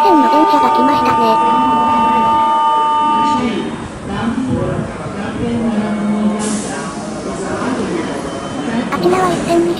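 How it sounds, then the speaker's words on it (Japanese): A Nara Line train pulls into a station in Nara Prefecture, loud rumble and squealing wheels with a sustained horn-like tone, then rolling noise under continuous talk. "奈良線の電車が来ましたね"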